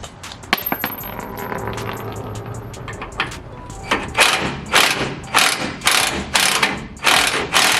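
Repeated ratchet clicks from a wrench backing a bolt out of a rear leaf-spring shackle on a Chevrolet Silverado, close and crisp, with louder bursts of clicking strokes growing stronger toward the end.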